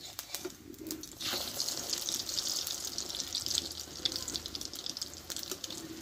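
Once flipped, an egg paratha fries in hot oil with a continuous bright sizzle that swells after the first second and keeps up a dense, even hiss dotted with faint crackles.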